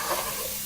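Chopped onion frying briskly in a pan, a short burst of loud, close, hissing sizzle.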